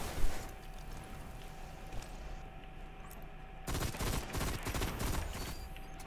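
Video game gunfire crackles steadily throughout, then grows heavier and denser partway through, sustained rapid bursts of shots at moderate distance.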